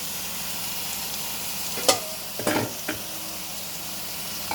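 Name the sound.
stirring country chicken pieces with masala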